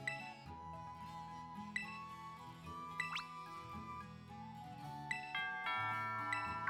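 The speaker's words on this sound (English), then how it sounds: "Ding dong." A doorbell rings inside a house in Pokémon Scarlet and Violet, a clear two-tone chime standing out over steady game background music, fairly close with no talking.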